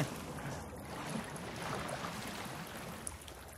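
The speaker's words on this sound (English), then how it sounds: "do you hear that noise? Oh, it's just water." Flowing water in The Forest video game, a soft, steady trickling wash like a stream running continuously and fairly faint in the background.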